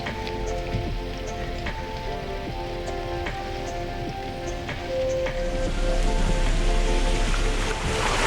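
Rain drumming steadily on a Jeep, dense close patter with scattered louder drops, growing somewhat heavier toward the end, no voices.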